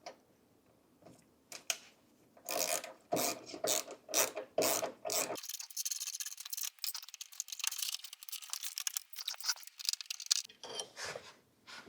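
A hand ratchet backs out 5mm socket-head hex screws while a paddle box is being taken off a saw, producing rapid bursts of close, crisp clicking that stop and start in an uneven rhythm, alone with no talk.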